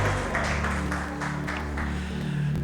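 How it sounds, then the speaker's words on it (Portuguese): Church congregation clapping during a communion service, a dense continuous patter over a sustained organ or keyboard tone, moderately loud throughout. "Aplauda Jesus pela vida da Germana"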